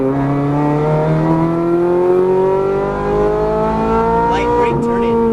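A Ferrari 430 Scuderia accelerating hard on a race track, its engine note climbing steadily in pitch through a long pull, loud and close, with an instructor's voice briefly talking over it near the end.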